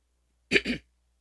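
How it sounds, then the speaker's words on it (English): A single short throat clearing, two quick rough bursts close up in an otherwise quiet room. "Sorry to keep clearing my throat."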